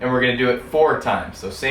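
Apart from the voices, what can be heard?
No distinct noise like a dog, phone or traffic.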